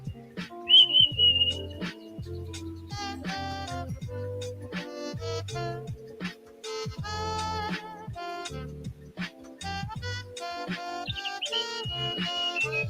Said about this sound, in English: I'm going to turn it back up a little so I can make sure you hear those birds.